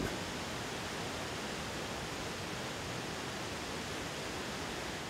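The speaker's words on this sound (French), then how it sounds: "Voici les chutes Athabasca, la cascade la plus puissante des Rocheuses canadiennes." Athabasca Falls, a powerful waterfall in the Canadian Rockies, roaring as a steady, dense, unbroken rush of water at constant level throughout.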